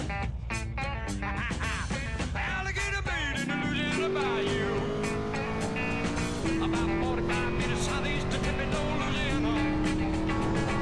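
A car engine accelerates in GTA San Andreas, its whine climbing steadily in pitch and dropping back at each gear change, repeated several times under a dense, loud wash of other game sound.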